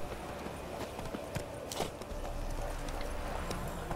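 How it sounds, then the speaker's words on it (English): Horse hooves clip-clopping in The Witcher video game, a string of irregular hoof strikes that becomes louder and busier partway through, heard alone without talk. "Alright, let's call our teleporting horse over to us."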